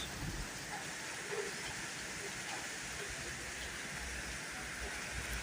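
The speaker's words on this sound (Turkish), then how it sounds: "Yağmur bayağı bir bastırdı arkadaşlar." Steady heavy rain pours down on a balcony in a constant dense hiss, with no pauses, at a moderate distance.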